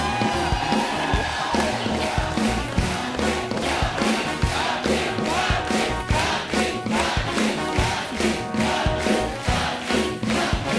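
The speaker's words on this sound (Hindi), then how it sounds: "आप तालियां बजाई जा रहे हो" A studio audience on a Hindi TV comedy show, The Kapil Sharma Show, claps in loud, sustained applause with rhythmic accents, mixed with whoops and cheering from the crowd.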